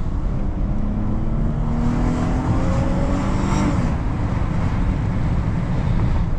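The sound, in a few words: V6 car engine accelerating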